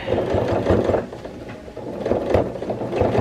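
A sewing machine stitches a jean skirt, its needle running in a steady, close mechanical chatter that surges and eases slightly over a few seconds.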